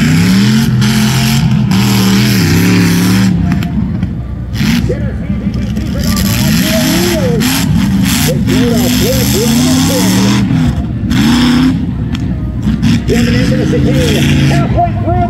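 A loud off-road truck engine roars and revs repeatedly on a tuff truck course, its pitch rising and falling close by, while a commentator talks excitedly over it.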